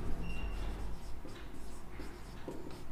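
A pen scratches steadily across paper as a trigonometry problem is written out, a soft, close, intermittent scribbling with brief pauses between strokes.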